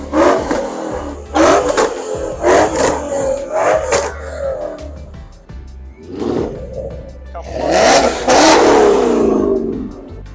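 A big Ford Mustang revs hard at a car meet with a series of loud, throaty blips followed by a longer roaring surge, heard close and outdoors.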